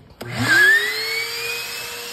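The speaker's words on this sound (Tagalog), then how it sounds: "Kalahating oras namin i-vacuum to," A vacuum cleaner switches on and spins up with a rising whine, then holds a steady loud drone while cleaning the interior of a 2010 Mitsubishi Outlander.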